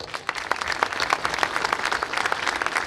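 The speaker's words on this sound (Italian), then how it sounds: "vi chiedo di tributare un lungo applauso." A crowd applauds at a 2018 legality march event in Joppolo Giancazio, producing a dense, steady clapping that continues without a break and sounds fairly close.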